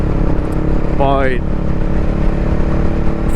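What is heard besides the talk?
Honda Rebel 500 motorcycle with Two Brothers exhaust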